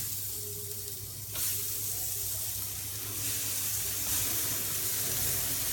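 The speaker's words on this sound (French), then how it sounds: "je vais cuire ma viande" Meat searing in a hot pan for a crown-shaped pizza filling, a continuous broadband sizzle with a low steady hum underneath and a few brief bursts of louder spitting, no voices.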